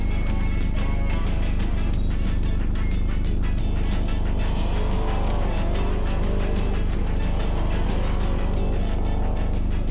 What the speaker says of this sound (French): Vital Budo au volant d'une Renault 11 Turbo.